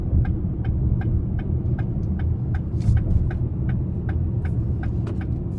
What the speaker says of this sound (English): I'm gonna try to give it a little bit of throttle again on the interstate here.